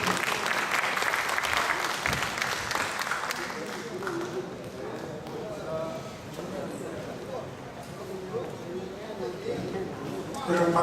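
Audience applause at a Korean national forest managers' convention lecture, loud dense clapping at the start that thins and fades while a voice begins talking, then swells again near the end.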